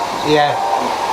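A vacuum cleaner hoovers indoors with a loud, steady motor whine that holds a slight rising tone through a short burst, dominating the whole moment without speech.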